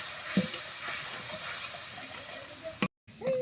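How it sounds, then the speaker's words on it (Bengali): A spice paste with added water fries in a pan and gives off a steady, close sizzling hiss, with occasional soft stirring scrapes and a brief cut to silence near the end. "এবার এই মশলাটাকে খুব ভালোভাবে কষিয়ে নেবে যতক্ষণ না পর্যন্ত তেল ছাড়ছে মশলা থেকে।"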